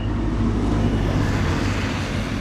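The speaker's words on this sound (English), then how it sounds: "Fucking noisy taxi bastards." A noisy taxi passes by on the street, a loud broadband rumbling roar that holds steady through the brief moment, with no voices.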